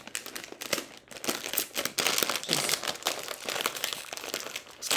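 Plastic packaging crinkles and crackles loudly and continuously as it is torn open by hand, with busy rustling bursts throughout.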